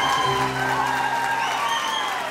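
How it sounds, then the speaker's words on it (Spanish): Dense live audience applause fills the whole stretch at a cuarteto music concert, steady and loud with a faint sustained musical tone underneath and no one talking over it. "Gracias por los aplausos."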